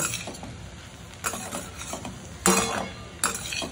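Sweet corn poha with spices and homemade ghee is stirred in a pan, with a soft continuous scraping and a few sharper clinks of the spoon against the metal.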